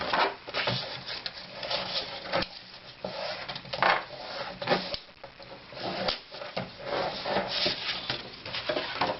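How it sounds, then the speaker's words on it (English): A tool scores cardstock at a half inch to form a hinge, giving soft scraping and rubbing strokes with light taps and handling noises at close range. "Score at 1/2 inch to form a hinge."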